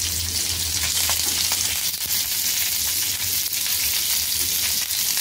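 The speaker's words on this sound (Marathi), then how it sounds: "मीडियम गॅसवरतीच आपल्याला तळून घ्यायची आहे ती, फास्ट करू नका गॅस।" Stuffed okra (bharleli bhendi) fries in an open, uncovered pan over medium heat, giving a steady, dense sizzle with faint crackles that holds evenly throughout at close range, with no voices.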